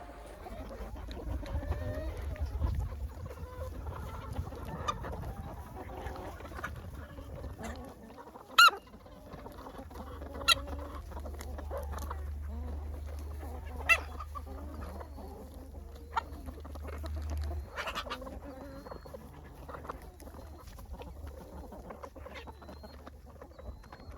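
Small flock of backyard chickens clucking and squawking around a coop on a chilly fall morning, scattered soft clucks with occasional sharp louder calls over a low rumble of background noise.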